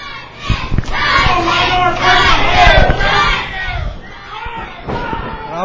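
Kids in a wrestling crowd chant for Tyson, a loud, close roar of young voices rising and falling in rhythmic shouts, with thumps and bursts of cheering mixed in.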